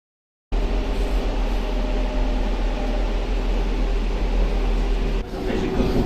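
A steady, loud rumble of a train in motion, broadband rushing noise with low-end drone, continuous throughout with a brief dip near the end.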